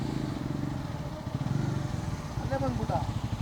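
A KTM Adventure 250 motorcycle rides along with a steady engine rumble and road clatter, fairly quiet, while people talk over it.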